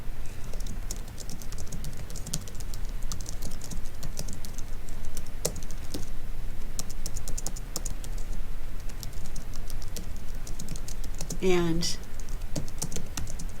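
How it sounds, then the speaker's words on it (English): Steady typing on a computer keyboard, quick light clicks running throughout at close range, with a brief spoken word near the end. "so you just type your overview in here."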